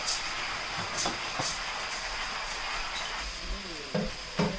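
Birria taco meat sizzling in a hot pan as it goes in, a steady moderate frying hiss with a few sharp clinks and scrapes of utensils against the pan.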